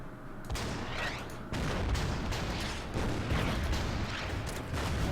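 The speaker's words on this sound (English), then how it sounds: "I'm going to hit it with the artillery" Artillery barrage striking US infantry in the World War II strategy game Order of Battle, set in the Huertgen Forest: a dense, loud run of overlapping blasts and rumbling booms, with a short lull before a second sustained wave of explosions.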